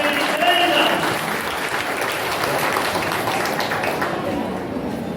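Audience clapping at a Thirukkural prize-giving ceremony, a dense, steady wash of many hands applauding at once in a hall, sustained and fairly loud for the whole stretch with a slight fade toward the end.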